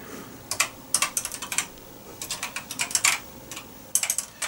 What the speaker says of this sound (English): I love the sound of these keyboards.